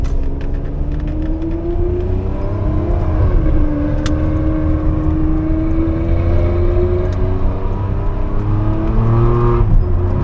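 A Ferrari 599 GTB Fiorano's V12 engine drones loud and steady while the car drives slowly under light throttle, a deep continuous rumble with gentle pitch shifts heard from inside.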